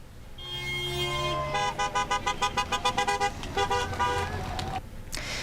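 Trucks at the French Freedom Convoy protest against the vaccine pass blast their horns. Long sustained air-horn tones give way to a rapid series of rhythmic toots, loud and close, with traffic rumble underneath.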